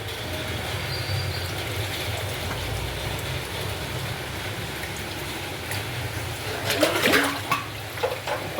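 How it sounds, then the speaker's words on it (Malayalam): Heavy rain pours down as a dense, steady roar, with a louder splashing surge late on. "ഇപ്പോൾ ഭയങ്കര മഴയുള്ള കൊണ്ടാണ്."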